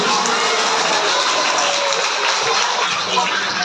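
A school ceremony audience claps to welcome a guest, a dense, steady wash of applause from many hands, sustained and evenly loud throughout.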